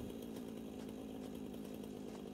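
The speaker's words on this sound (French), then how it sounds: "je vais enlever la tronçonneuse" A video game chainsaw from Satisfactory drones steadily throughout, a dense, continuous buzzing whine with no breaks, heard at moderate volume and without speech.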